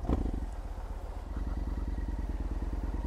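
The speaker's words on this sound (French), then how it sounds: "Oh là, j'hésite même à accélérer avec cette bécane." A 2005 Yamaha MT-01 big twin-cylinder motorcycle idling nearby, with a deep, lumpy, evenly pulsing rumble and a brief rev at the start, steady and loud.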